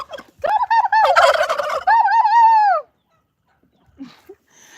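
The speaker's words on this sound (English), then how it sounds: "these are broad-breasted white turkeys" Broad-breasted white turkeys gobble loudly and close by in a rapid, warbling burst lasting a couple of seconds, followed by a short pause and a few faint clucks.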